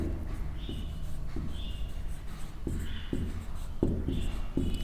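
Chalk or marker on a board in a primary-school maths lesson: a series of short scratchy writing strokes in bursts, quiet and close, with no talk over them.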